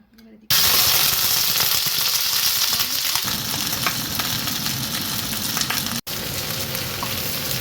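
Cut vegetables such as cauliflower, carrot, pumpkin, potato and sweet potato fry in hot oil in a wok, producing a loud, continuous sizzle with occasional stirring clatter close by.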